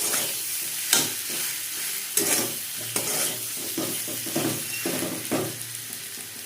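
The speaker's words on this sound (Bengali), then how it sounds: "এটা ভালো করে কষিয়ে নেবো" Potatoes sautéed and stirred in a pan for Bengali egg chops, with a steady sizzle and repeated scraping strokes of the spatula, moderately close and with no talk.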